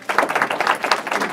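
An audience at a policy conference bursts into brisk, dense clapping, close and lively throughout the short stretch.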